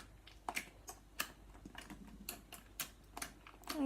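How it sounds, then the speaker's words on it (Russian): Glittery slime gives off a series of sharp, quiet clicks as it is squeezed, coming in an irregular rhythm close up with no talking. "Он кликает."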